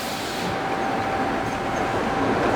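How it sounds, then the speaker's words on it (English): A steady, loud mechanical rush with a faint hum, like a steam train chugging along, continuous and close for a few seconds, as bread loaves are sucked out of baking tins in a bakery. "That's the sound of the loaves being sucked out of the baking tins."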